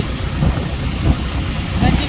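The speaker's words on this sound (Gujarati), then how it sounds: "વરસાદ ચાલુ યાર વાર યાર." Rain falls steadily in a broad, close wash of noise during a monsoon downpour near a school, with a voice talking over it.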